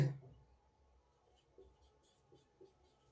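Chalk or marker writing on a board during a Class 10 maths lesson on real numbers, a few faint scratchy strokes in a quiet room with no talking.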